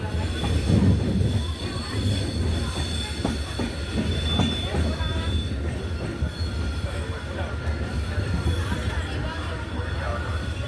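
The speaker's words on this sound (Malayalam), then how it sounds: "കൊല്ലം junction railway station platform number ടുവിലേക്ക് Thiruvananthapuram north Mysore express കയറുകയാണ്" The Thiruvananthapuram North–Mysuru Express rumbles loudly into platform two at Kollam Junction railway station, wheels squealing and carriages clattering steadily throughout, with faint voices mixed into the noise.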